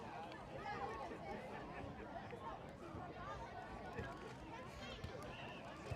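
Crowd chatter fills the stands at a youth baseball championship game, a steady murmur of many voices at a distance, with clear talking layered on top.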